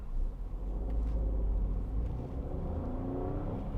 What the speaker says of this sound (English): Just a nice buzzy sound from the Citroen engine.